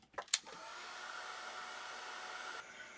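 After a couple of sharp clicks, a dryer switches on and whirs steadily, drying a paste made from colourful paper towels. A loud, close, continuous blowing hum shifts slightly in tone near the end.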